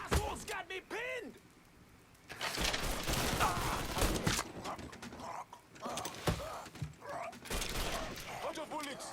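Gunfire in the video game Mafia III Definitive Edition: dense, loud bursts of shots and impacts rattle almost continuously, with game voices and someone talking mixed in.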